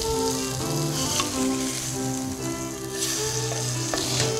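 Just-flipped French toast fries steadily in a pan, with a continuous close sizzle and crackle at an even level and no speech.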